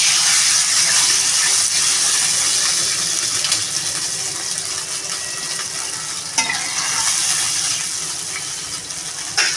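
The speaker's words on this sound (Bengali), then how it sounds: "আলু তো আমার ভাজা হয়ে গেছে এবার আমি পরিমাণ মতো জল দিয়ে দেবো" Water poured onto potatoes already fried in a pan sets off a loud, continuous hiss and bubbling sizzle close by. It stays steady and broadband throughout, with a brief clatter near the middle.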